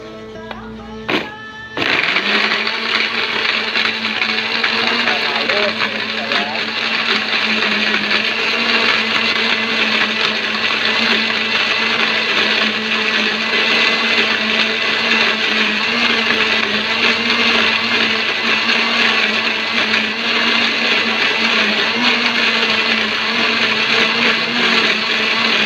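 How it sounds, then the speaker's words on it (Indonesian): Electric blender grinding spice paste for a village-style yellow fish curry with tilapia, a loud steady whir starting after a brief click and running without pause to the end. "Kemudian kita blender"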